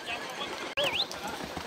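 Horse on a rough trail ride, with a sharp neigh rising and falling near the middle and hoof clatter around it, while a rider shouts and talks over the sound.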